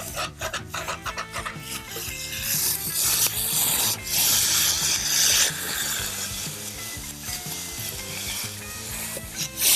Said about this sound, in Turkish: Altına soğanlarını koyacağım. Kızaracak. Çıtır çıtır oluyor.